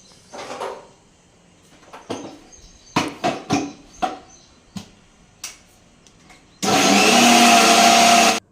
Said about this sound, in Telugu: దీన్ని అయితే మిక్సీ పట్టేద్దాం